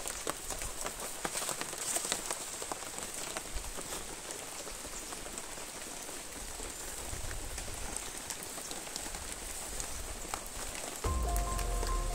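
Steady rain falls and patters on surfaces outdoors, a dense continuous wash of drops close by that runs the whole length and swells slightly louder near the end.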